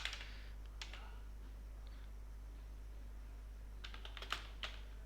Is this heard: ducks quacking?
no